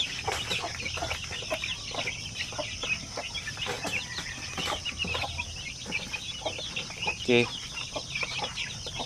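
Young Basilan chicks about one month old peep and cluck steadily in a pen, a busy continuous flock chatter close by, with a brief spoken word near the end.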